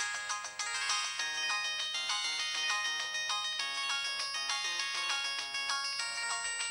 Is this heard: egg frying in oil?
no